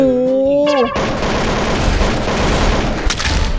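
Rapid gunfire from Roblox Rivals bursts in loud and dense after a short stretch of speech, continuing as a sustained, crackling fusillade of shots with booming impacts.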